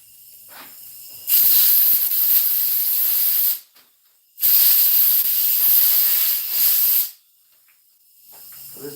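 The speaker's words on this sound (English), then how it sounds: "The fucking air hose leaks. The air tip leaks." Compressed air hisses loudly from a leaking air hose and tip in a workshop, two long, steady bursts of several seconds each with short quiet gaps, close up and without voices.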